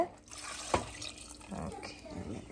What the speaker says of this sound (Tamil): இது வந்து மிக்ஸி கழுவின தண்ணி அம்மா சைடில் வச்சுருக்காங்க.